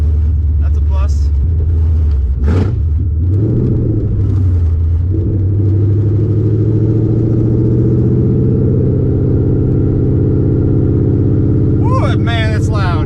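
A 1999 Mustang Cobra with a swapped-in Coyote V8 cruises at about 2,000 RPM, its loud, steady exhaust rumble droning throughout with a brief rise early on, while a voice speaks briefly near the start and end.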